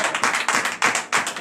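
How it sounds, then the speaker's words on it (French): A congregation at a morning prayer service claps in rapid bursts, loud and close, with short pauses between waves of rhythmic hand claps. "je vous demande d'applaudir encore très fort"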